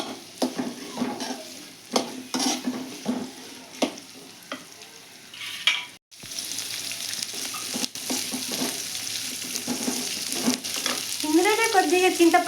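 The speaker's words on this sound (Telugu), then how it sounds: "2 ఉల్లిగడ్డలు వేయించుకుందామండి. సిమ్లోనే వేయించాలండి" Two onions fry on low heat in a pan, a soft steady sizzle broken by repeated scraping and stirring strokes of a utensil, close and without talk.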